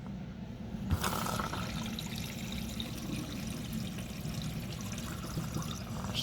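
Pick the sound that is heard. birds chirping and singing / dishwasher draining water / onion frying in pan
dishwasher draining water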